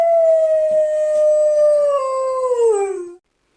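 A dog lets out a single long, loud howl that holds steady, then slides downward and fades out before a brief silence.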